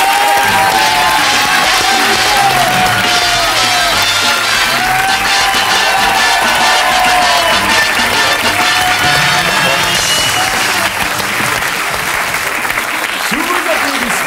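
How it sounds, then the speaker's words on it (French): Studio audience at a French television talk show breaks into loud, sustained applause with cheers and whoops, a dense wall of clapping that carries on for the whole stretch, with a voice briefly rising over it. "Sous vos applaudissements."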